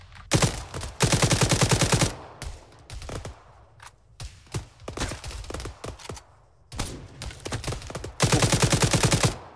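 Bursts of automatic gunfire and single shots in the military video game Arma 3, loud and close, with long rapid machine-gun volleys at the start and end and scattered sharp cracks in between.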